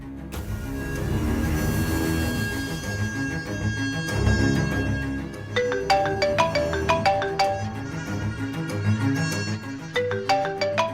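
An outgoing phone call goes unanswered, its melodic ringtone tones repeating steadily for several seconds, fairly clear and close, with no voices.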